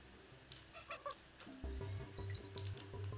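A parrot character in the video game Donkey Kong Country 3 squawks and chatters in short, repeated bursts, backed by a bouncy game music loop.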